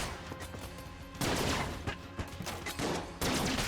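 A laser rifle fires in the Enter the Gungeon video game as a dense run of loud, sharp electronic shots. The shots come in rapid bursts, with a brief quieter gap before a heavier volley, and no one speaks.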